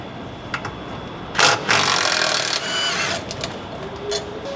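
A power tool runs out 13 mm bolts on a Ford Super Duty fuel tank, one loud whirring burst of about a second near the middle, preceded and followed by faint clicks and shop background.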